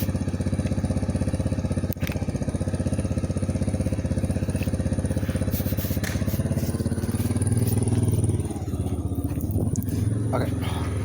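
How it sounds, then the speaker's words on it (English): A running engine drones steadily and loudly throughout, a low continuous rumble with an even pulse, its tone shifting slightly near the end while people speak over it. "Let's move away from the engine."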